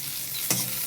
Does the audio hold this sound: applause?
no